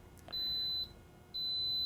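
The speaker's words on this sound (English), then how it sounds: "It'll beep 3 times. That tells me it's going to start cooking." An Instant Pot pressure cooker sounds two long, steady electronic beeps, close and clear, the second following a short pause, with a faint earlier chirp at the start of the clip.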